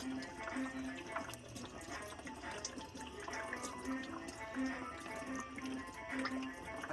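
Coolant drains from a Mustang, a faint, continuous trickle with scattered drips, heard close and quiet with no voices over it.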